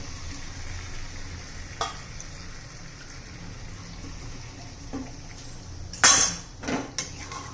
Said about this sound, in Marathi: एकसारखं हलवायचं दही घातल्यानंतर.